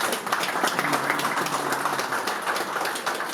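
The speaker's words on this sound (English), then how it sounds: "Not every man is applauding because they're scared." An audience of men applauds steadily, dense clapping filling the room at an even, sustained level with no voice on top.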